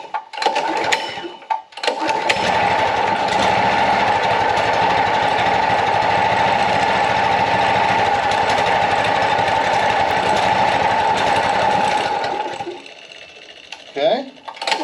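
A mini chopper motorcycle engine catches after brief starting sounds and runs steadily for about ten seconds, a loud, close buzzing drone that cuts off near the end, followed by a few short knocks.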